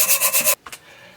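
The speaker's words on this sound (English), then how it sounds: "Sanding through that black." Sandpaper rubbing through black paint in quick rhythmic back-and-forth strokes, about five close, loud passes, then stopping abruptly and leaving only a few faint scrapes and quiet room sound.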